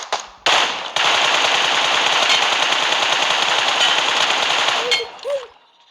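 Loud, sustained automatic gunfire in the PUBG video game rattles in a dense rapid burst for several seconds, then cuts off, followed by brief faint game sounds.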